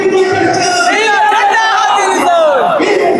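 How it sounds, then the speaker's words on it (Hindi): A dense crowd chants slogans in unison at Ambedkar Park in Lucknow on Ambedkar Jayanti. The voices are loud and close, with rising, sustained calls repeating over a constant roar of many people. "इस गेट से पूरी भीड़ अंदर आती हुई, लगातार नारे लग रहे हैं।"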